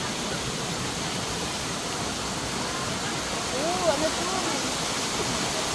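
A man-made waterfall in the Juknokwon bamboo forest in Damyang gives a steady, broad rush of falling water. It sounds close and continuous, with faint voices briefly audible in the background.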